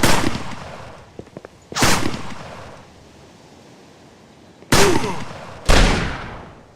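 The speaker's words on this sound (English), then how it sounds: "In addition to hearing out the gunshots, you'll be able to see the flashlights of your enemies too." Four sharp gunshots in the PC game Lifeless ring out in a loose pattern, two early and two later, each with a fading reverberant tail, with quiet ambience between them.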